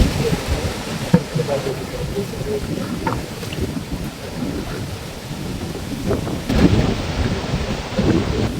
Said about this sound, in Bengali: প্রচন্ড ঢেউ দিচ্ছে প্রচন্ড হাওয়া দিচ্ছে